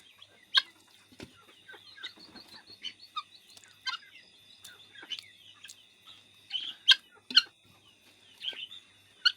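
Desi chickens cluck and peck while eating rice and rice bran, giving scattered short calls and soft pecking sounds at close range over a quiet background.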